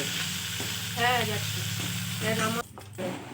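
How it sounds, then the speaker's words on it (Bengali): Rohu fish pieces fry in oil in a pan, a continuous close sizzle with some stirring, while a voice talks briefly over it before the sound dips near the end. "এবারে মাছগুলো ভেজে নেব।"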